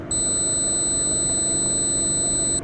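A steady, piercing 8000 Hz tone rings continuously over a faint hiss, then cuts off abruptly.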